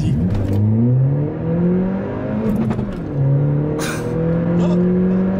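A car engine revs and drones close by, with sharp crackles and pops breaking out over the roar, and a voice talking faintly underneath.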